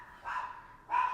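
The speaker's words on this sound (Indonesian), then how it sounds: "yang menggonggong pagi-pagi. Suaranya besar sekali." A large dog barks twice in the morning, two short, deep, fairly loud barks with a brief pause between them and no talking.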